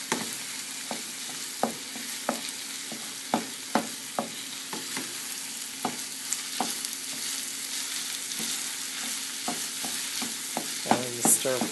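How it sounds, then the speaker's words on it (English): Meat filling for steamed rice rolls stir-fried in a pan: a quiet, steady sizzle punctuated by regular sharp scrapes and taps of the spatula against the pan, with a slightly busier burst of stirring at the end. "And stir fry that for a few minutes until everything is nice and cooked."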